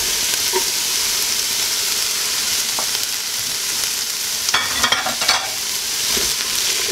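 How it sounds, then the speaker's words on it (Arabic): Potatoes frying with onions in a pan for a soup, giving a loud, steady hiss and sizzle with a few brief scrapes and clinks of stirring, and no talking. "غادي نضيفنا البطاطا ديالنا، ايضا نقليوها حتى هي مزيانه"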